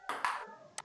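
A ping pong sound effect from a software sound library: a short bright tock followed by a quick second hit, then a small echoing tap, clean and alone.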